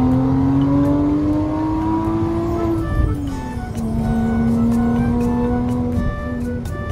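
A Porsche 987 Cayman with a manual gearbox drones steadily on the highway toward Mihama Circuit, its exhaust tone rising through a gear, dipping at a shift, then holding a loud, even cruise.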